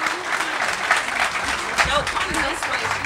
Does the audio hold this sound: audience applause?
yes